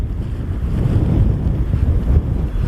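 Wind blowing hard across the microphone at a wild camping site in the U.K., a continuous low rumbling buffet with gusty fluctuations and no voices.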